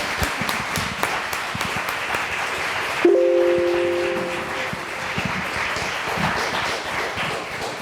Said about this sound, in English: we give you a big clap